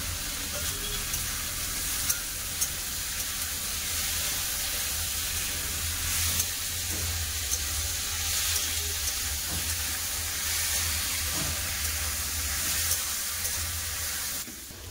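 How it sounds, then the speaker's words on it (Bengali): Potatoes, radish and taro frying with spices in a pan, giving a steady close sizzle throughout with occasional faint stirring clinks. "আলু, মূলা, কচুগুলো ভালো করে মশলার সাথে ভেজে নিয়েছি"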